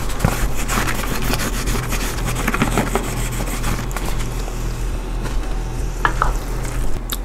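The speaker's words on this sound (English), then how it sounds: "I'm going to stir this in now. This being the cilantro" A spoon scrapes and rubs repeatedly through a pot as cilantro is stirred into simmering Spanish-style pigeon peas and rice, close and steady over a low background hum.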